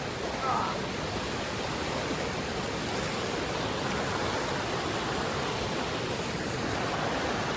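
A river rushing past a sandy, rocky crossing on the Pacific Crest Trail in the Sierra, a steady broadband wash that stays close and fairly loud throughout, with no break in the flow.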